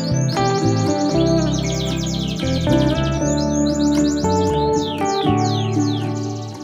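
A canary sings a continuous run of bright, rapid chirps, trills and rising whistled sweeps, loud and close, with a steady lower tonal layer underneath throughout.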